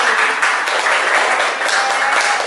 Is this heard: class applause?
yes